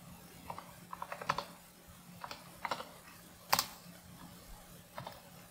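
Scattered keystrokes on a computer keyboard as numbers are entered, sounding as quiet, crisp clicks in short irregular clusters with pauses between, close up over a faint steady hum.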